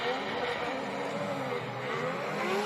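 Drift cars at Formula Drift Irwindale lighting up their tires on the banked section, engines roaring continuously with rising and falling pitch sweeps as they rev hard through the slide, heard at moderate distance without voices.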